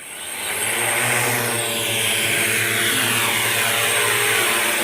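A police training drone in flight over open ground, a steady whirring rotor drone that rises in the first second and holds loud and constant throughout, with no voices.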